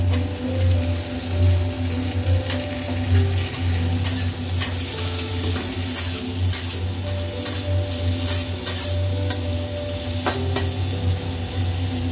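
Green beans and capsicum fry in a pan with a steady, close sizzle, interrupted by occasional sharp clinks and scrapes of stirring over a constant low hum.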